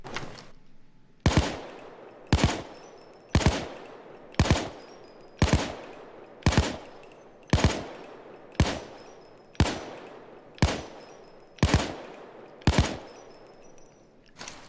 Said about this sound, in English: I'm trying to do full auto while trying to control it. Alright, going hot.